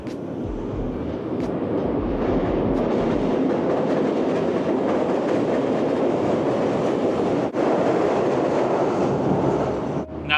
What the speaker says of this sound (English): Now you see what I meant by the loud trains.